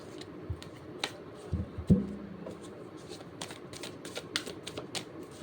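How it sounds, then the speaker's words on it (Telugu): Tarot cards riffle and slap together during shuffling, with scattered close crisp snaps and one louder thump partway through, no talking. "కార్డ్స్ షఫుల్ చేసేటప్పుడు"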